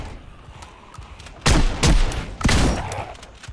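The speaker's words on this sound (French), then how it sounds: "Allez, je tire 3 balles." Three heavy gunshots ring out from a firearm in the video game Project Zomboid, loud and close with short echoing tails, spaced unevenly over a couple of seconds.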